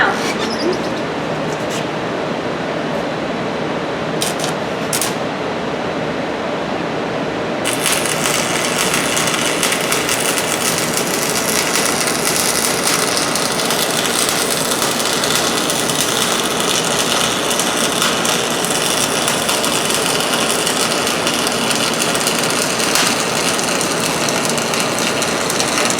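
A welding machine lays a weld bead, beginning with a quieter hum and scattered clicks, then shifting to a loud, continuous crackling sizzle that holds steady for the rest of the clip, with no talk.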